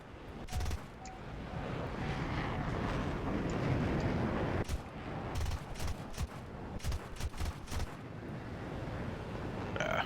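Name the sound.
aircraft gunfire in a jet combat video game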